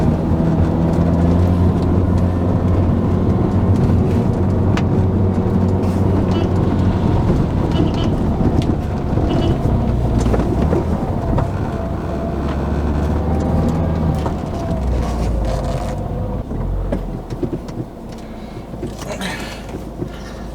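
A 2010 Mini Cooper S (R56) with a manual gearbox pulls away in first gear on a wet road, held short of full throttle. Its steady engine drone and road rumble run continuously, with a low hum and faint noise from the tyres on the wet surface.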